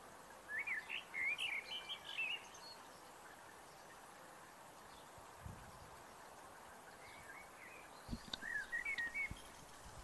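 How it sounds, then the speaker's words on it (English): Goldfinches feeding at a feeder give bursts of high, twittering chirps near the start and again near the end, over a quiet outdoor background with faint insect hum. "More goldfinches arrive and chase off our friend."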